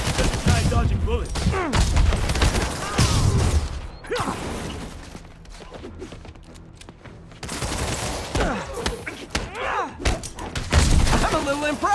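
Enemy gunfire in the video game Marvel's Spider-Man, dense rattling bursts of shots and impacts through most of the stretch, easing briefly midway before surging again, with voices calling out over the action.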